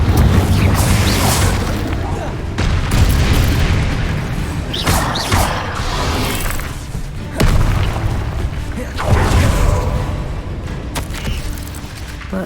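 Confringo blasting spells exploding in Hogwarts Legacy, several loud booms and crashing bursts at intervals over constant battle noise and music, heavy and close throughout.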